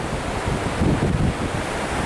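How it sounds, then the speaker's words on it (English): Ocean surf breaking on a coastline with steady wind buffeting the microphone, a dense continuous wash that swells slightly in the middle, no voices. "What do you think of your first trip to the ocean, Alex?"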